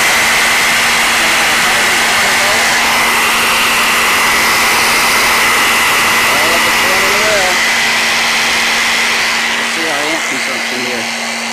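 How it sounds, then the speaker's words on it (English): A shop vac and a jigsaw run together off a homemade inverter with the engine off, making a steady, loud whine and roar with a constant hum throughout and brief fluctuations near the end. "Got my shop vac turned on, and I'll squeeze the handle of my jigsaw at the same time."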